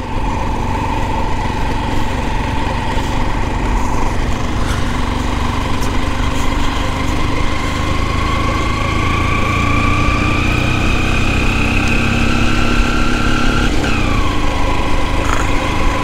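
A motorcycle engine runs steadily and close by on a rough jungle track, a loud continuous drone with slowly shifting pitch as the revs rise and fall, with no talking.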